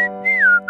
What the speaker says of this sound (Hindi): इतनी रात को इतनी मस्त सीटी कौन बजा रहा है?